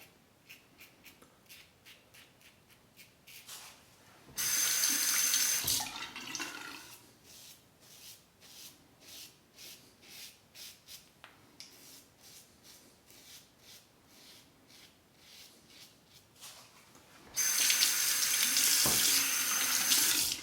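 A Parker 22R safety razor is rinsed under a running tap at a sink, two loud bursts of gushing water separated by rhythmic rubbing and tapping sounds, with no speech.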